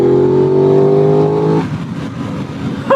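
Aprilia RS660 motorcycle engine, 2023 model, revving loudly up through a strong, steady rising tone after a downshift near 85 km/h, then cutting off to a rougher, burbling note of the bike continuing on.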